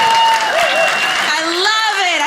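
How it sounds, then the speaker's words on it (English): A comedy club audience applauds a stand-up comedian, a full close burst of clapping and cheering that carries throughout while voices rise over it. "I love when people applaud for me doing nothing."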